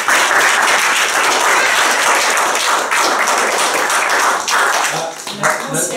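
A crowd gathered in the Mont-Saint-Michel bay applauds a newly qualified guide with loud, dense, steady clapping that fills the moment and thins slightly near the end.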